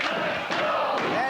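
A wrestling arena crowd roars during a tag team match, a dense, loud wall of cheering and shouting that keeps swelling throughout.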